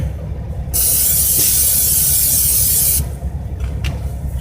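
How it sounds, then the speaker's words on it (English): A steady, loud hiss of butter cooking spray onto a pan lasting a couple of seconds, starting and stopping abruptly, with faint kitchen rustle around it. "First thing I'm gonna do is spray my little butter."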